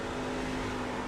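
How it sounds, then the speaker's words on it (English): Race truck engine at Bristol Motor Speedway in a Showdown Truck Series event, a steady, dense drone held at moderate level throughout with no talk. "he really wasn't putting that much throttle into it"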